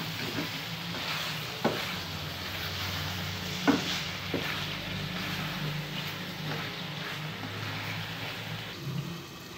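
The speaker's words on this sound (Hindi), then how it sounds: "अब हम एक बार इसको यूँ हिला लेंगे ताकि गोश्त नीचे ना लगे" Koyla karahi mutton being stirred as it fries in a pan, heard as a continuous close sizzle with a few scraping knocks of the spoon against the pan and no voices.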